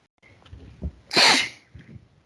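A single sharp sneeze bursts out close to the microphone, preceded by a brief inhale and followed by faint breathing and rustling.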